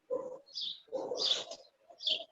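A small bird sings nearby in a few short bursts of chirps and warbling notes, with brief pauses between phrases and no talking.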